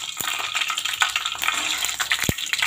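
Fenugreek seeds frying in hot oil in a pan give a steady bright sizzle and crackle that run throughout at moderate loudness, with one or two short knocks from stirring, and no talking.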